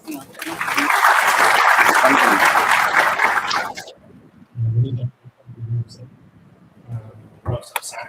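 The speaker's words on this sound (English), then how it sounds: "We welcome the team of Vellore with a great round of applause." A large audience at a VIT Vellore Career Development Center orientation bursts into loud, sustained applause for about four seconds, then it fades, leaving a quiet hall with a few faint low thumps and a brief rustle near the end.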